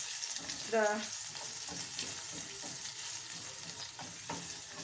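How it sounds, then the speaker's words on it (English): Steady frying sizzle of escovitch in a pot, with a brief stirring clatter near the start and faint clinks over the hiss. "here the little sizzle that will release"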